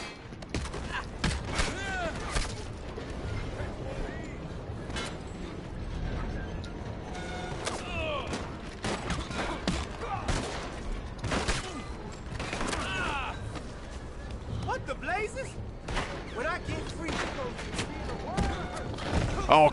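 Dense, rapid gunfire crackles throughout a Red Dead Online shootout, with overlapping shots, thuds and clatter at close range, bursts coming in quick irregular volleys.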